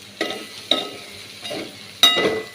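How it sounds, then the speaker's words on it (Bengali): Ivy gourd and potato pieces sizzle in a pan as they are stirred, with four distinct scraping bursts over a soft, steady frying hiss, close by. "এইদিকে কুঁদরি আলু ভাজা করছি"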